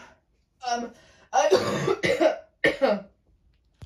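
A voice coughs and hacks several times in quick bursts, with short throaty clearing sounds between pauses, close and fairly loud.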